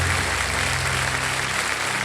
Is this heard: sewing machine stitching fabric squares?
no